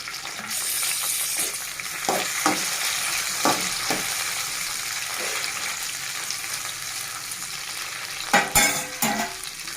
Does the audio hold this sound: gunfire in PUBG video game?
no